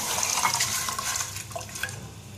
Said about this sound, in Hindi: तो अब हम इस दाल को इसी में इस तरह डाल देंगे पानी के साथ